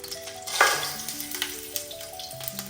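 Whole cinnamon, black pepper and cloves sizzle in hot oil for chicken majboos, a steady close crackle with a sharper burst as the spices hit, faint stirring throughout, no voices.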